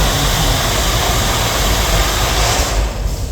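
Oil-burning steam locomotive running, a loud, steady roar with heavy low rumble and broadband hiss that holds constant throughout, easing slightly near the end, with no voices.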